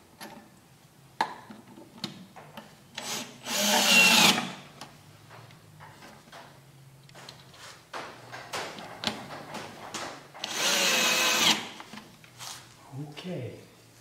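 A small drill whirs in a couple of short bursts on a black gum natural-edge bowl blank in a woodturning shop, interspersed with clicks, taps and a person talking nearby.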